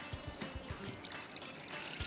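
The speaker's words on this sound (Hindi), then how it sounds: "ये पानी हम ऐड करेंगे इसके अंदर ताकि जो ब्रेड है थोड़ी सी सॉफ्ट हो जाए" Water poured into a bowl of bread mixture for a BBQ club sandwich or chicken bread bombs, a faint brief trickle with soft splashy drips and no talk.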